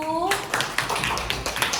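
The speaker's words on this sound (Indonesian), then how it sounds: "tepuk tangan dulu buat kelompok 1" A classroom of students claps for group 1, a brief burst of scattered hand claps that starts sharply and continues over about a second and a half, with children's voices mixed in.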